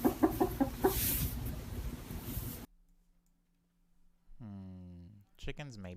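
Recorded chicken clucking plays in a studio as a run of quick, close clucks, then drops to near silence before a voice comes in, speaking in a sing-song tone.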